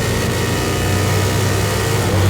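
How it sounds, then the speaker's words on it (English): Racing motorcycle engines drone loudly and steadily up close at the start line, a sustained revving rumble with a low hum underneath. "bikes are in place, revs are up"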